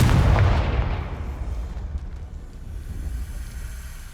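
A loud, deep booming blast from the Confringo explosion spell in Hogwarts Legacy, striking hard at the start and then rumbling away into a long fading tail.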